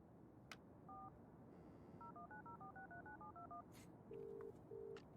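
Telephone keypad dialing in the video game Broken Sword: The Sleeping Dragon: a quick run of about a dozen crisp touch-tone beeps, followed by two longer ringing tones, faint over a quiet background hiss.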